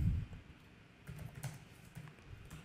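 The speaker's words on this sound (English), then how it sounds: "I want to type something." Soft keystrokes on a computer keyboard, a few quiet, irregular taps close by in an otherwise still room.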